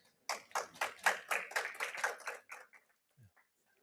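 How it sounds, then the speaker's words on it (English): About a dozen distinct hand claps in a fairly even rhythm at a foundation livestream event, close and clear, tapering off with a few softer taps at the end. "Clap hands."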